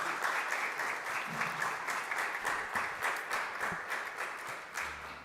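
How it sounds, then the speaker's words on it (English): An audience claps in sustained applause at an event, a steady patter of many hands, fairly even and moderately loud, running throughout without speech. "can we get one more round of applause for just the amazing work that they've already put together?"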